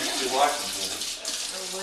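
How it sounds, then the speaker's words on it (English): Steady broadband hiss of water running from a faucet, continuous and fairly close, with faint background noise. "I'll leave the faucet on for a few minutes."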